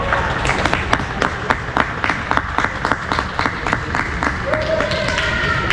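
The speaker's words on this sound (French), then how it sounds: "On applaudit Jeanne." Steady clapping from a crowd at the final of a tournament in Creil, many hands beating at a fast even rhythm for several seconds, fairly loud, with some voices mixed in.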